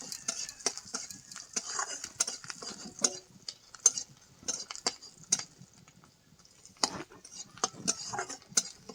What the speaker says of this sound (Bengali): তেল হালকা গরম হয়ে গেছে, এবার দিয়ে দেবো কয়েকটা দানা রসুনের কুচি।